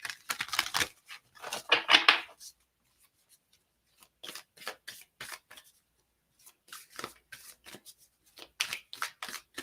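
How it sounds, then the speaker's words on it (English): Oracle cards shuffled and drawn by hand, crisp papery riffles and flicks in several short bursts separated by brief pauses, close and alone with no talking. "So let's pull another card here for you guys."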